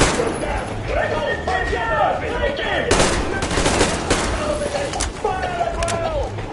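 Rapid bursts of gunfire and automatic weapon fire in the video game Metro Exodus crack out over a continuous loud battle din, with voices shouting throughout.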